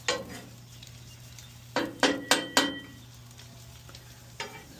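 Sausage and egg cooking on a Blackstone griddle, a quiet continuous sizzle broken by a quick series of metal spatula scrapes and taps, with one more scrape near the end and no talking.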